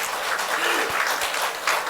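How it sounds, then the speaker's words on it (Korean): A large church congregation claps together during a Sunday worship service sermon, a steady dense wash of applause lasting throughout with no voices standing out. "이럴 때는 알아서 박수 쳐야 신상이 좋아."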